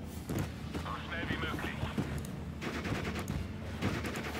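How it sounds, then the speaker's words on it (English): Anti-aircraft gun in the Steel Division Normandy 44 war game firing at a Spitfire: rapid, repeated thudding shots in uneven bursts amid battle noise, with someone talking over it. "At least our AA gun is firing at that Spitfire"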